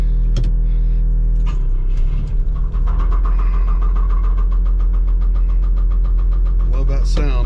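A Cadillac engine cranks and starts, then settles into a steady, loud idle with a rhythmic low rumble, and a brief whir near the end.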